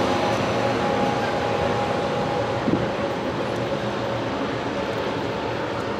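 Train pulling into Fullerton station: a steady, loud rumble fills the whole stretch, with a sustained tone running through the first half and a brief clank near the middle.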